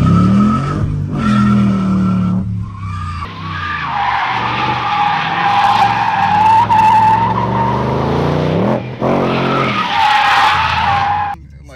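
Ford Mustang RTR doing a burnout, engine revving hard as the tires skid and squeal in a long continuous screech, close and loud, ending abruptly after a brief dip.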